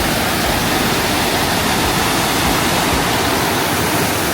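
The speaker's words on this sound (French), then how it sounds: "il fallait traverser une rivière" A river crossed on a levada hike in Madeira gives a dense, steady rush of flowing water, loud and close, with no voices over it.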